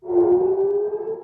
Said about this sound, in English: sirens erupted in Tel Aviv and Jerusalem